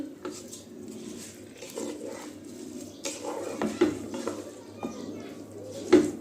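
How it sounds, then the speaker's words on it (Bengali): Polao rice and beef get stirred in a cooking pot, with soft scraping, patting and occasional clinks of a utensil against the pot under a quiet murmur of speech. "এখন পোলাওর চালগুলো মাংসের সাথে ভালো করে মিশিয়ে নেব।"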